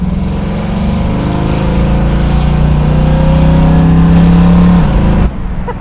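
A 1970 Camaro's engine revs loud and close, its pitch climbing steadily to higher RPM before cutting off abruptly near the end, with no voices.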